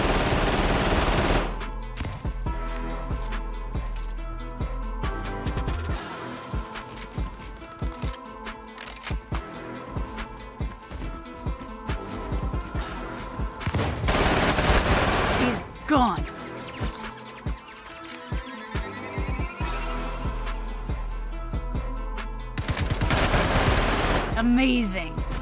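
Automatic weapon fire in a Star Marine first-person shooter match from Star Citizen, with dense rapid bursts nearly throughout, loudest near the start and again mid-clip and at the end, mixed with game music and player voices.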